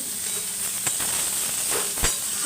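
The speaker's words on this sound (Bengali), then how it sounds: "আর একটু এরকম লাল লাল করে সবজিগুলো একটু ভাজতে হবে" Vegetables for fish curry are being fried in a pan until reddish, a steady close hiss of sizzling oil with a couple of soft stirring knocks and no voices.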